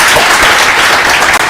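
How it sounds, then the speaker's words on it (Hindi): Loud, dense applause from an audience of exam students in an online-style lecture setting, a steady wash of clapping filling the whole moment with one brief dip near the end. "आप लोग अपने लिए एक बार जोरदार तालियां बजाएं"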